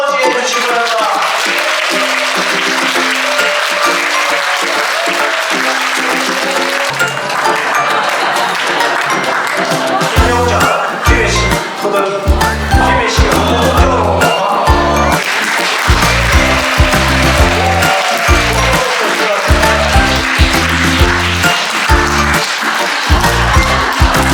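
Sustained applause from an audience at a ceremony appointing a city PR director in Gimhae, a dense steady clapping wash lasting the whole stretch, loud and close, with music and voices mixed in underneath.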